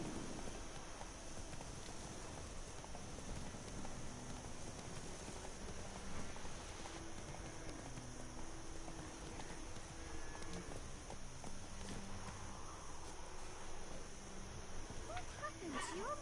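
Horse hooves clip-clopping in The Witcher 3, a steady running rhythm under a continuous hiss like rain, with a faint voice briefly in the background.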